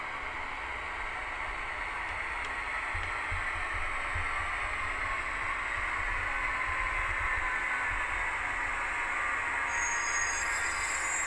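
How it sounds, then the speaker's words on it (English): The motors of a Rapido HO scale E44 model electric locomotive give off a steady, close whir that holds even throughout, with a faint high squeal entering near the end. "no diesel sounds because this is an electric, so you just have the whirring of the motors"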